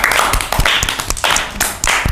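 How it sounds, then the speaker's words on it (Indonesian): A small podcast audience claps in several uneven bursts, sharp close slaps rising and falling in loudness over about two seconds, with no talking over it. "Tepuk tangan dulu Bapak Agung"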